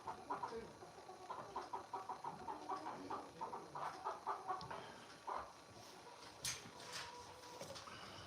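Chickens clucking on a ranch, a quiet flock giving bursts of rhythmic clucks and short calls, faint and fairly distant, with some low background noise.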